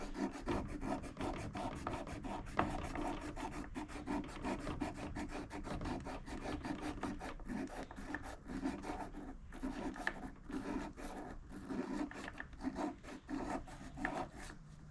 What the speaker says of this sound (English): Let me use some more of that abrasive cloth here.